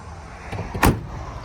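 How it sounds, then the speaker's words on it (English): A single solid thump of a square body pickup truck door shutting, close by, with a short low rumble before it and quiet background after. "That door also closes really well."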